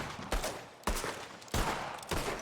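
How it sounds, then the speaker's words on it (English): Four loud gunshots from a firearm in the Western video game Red Dead Redemption, fired one after another at roughly half-second intervals, each a sharp broadband crack trailing into a short decay, with no talk over them. "then what you do is then you shoot your gun there"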